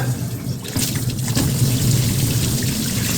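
Coolant drains from a Chevy Suburban during a cooling-system flush, a steady broadband splashing and trickling stream that holds loud and continuous throughout.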